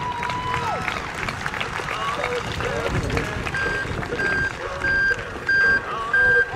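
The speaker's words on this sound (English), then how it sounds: "Give him a round of applause, he jumps out." A speedway crowd claps and cheers for a driver climbing out of his car after a big rollover, with steady applause mixed with track-side noise and repeated electronic beeps.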